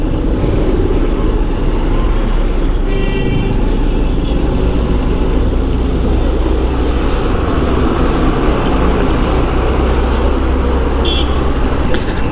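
Road traffic in a jam on a route from Kolkata toward Murshidabad, heard from a 125cc motorbike, a steady loud rumble of engines and road noise with occasional faint horns and no talk.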